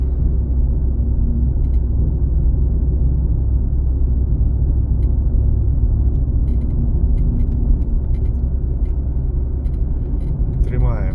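A car drives along the Skvyra highway near Bila Tserkva, a steady low road rumble and engine drone filling the cabin throughout, with light ticks near the end.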